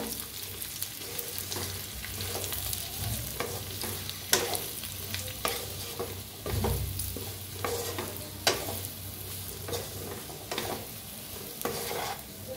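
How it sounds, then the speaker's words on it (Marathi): Bitter gourd and its seeds roasting in a pan while being stirred, with a continuous soft sizzle and repeated scraping and clattering of the spoon against the pan, close and fairly even. "तर आता छान असं याला बी भाजून घेऊया आणि सगळं असं मिक्स करूया कारलं"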